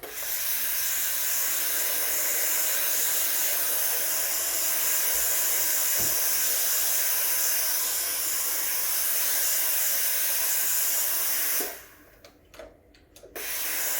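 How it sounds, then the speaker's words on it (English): A Breville Oracle espresso machine's steam wand purges with a loud, steady hiss that runs for about twelve seconds, then cuts off into sputtering bursts before falling quiet. "it sort of pumps steam to clean out the internals of the pipes"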